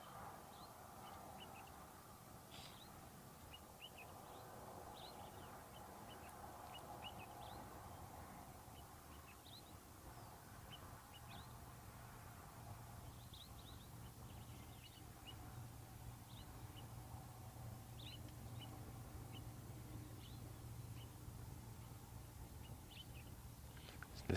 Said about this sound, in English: I can hear a dark-capped bulbul, formerly known as the black-eyed bulbul, chattering away in one of the treetops nearby.